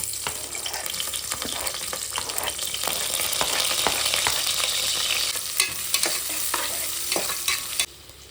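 Sliced onions with cinnamon, cloves and cardamom sautéing in a pan, a loud close sizzle running throughout while a utensil stirs and scrapes in irregular strokes, the frying hiss dropping away at the very end.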